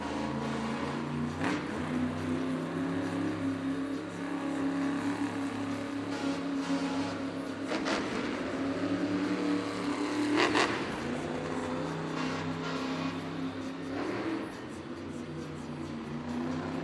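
Monster Jam monster truck engine revving inside an arena, loud roaring surges rising and falling with crowd and venue noise around it.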